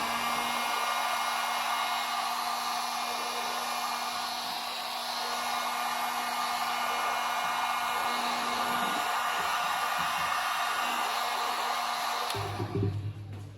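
A heat gun blows steadily on vinyl wrap as it is heated in place, a continuous close rushing hiss with a faint motor whine, cut off abruptly near the end by a short handling clatter.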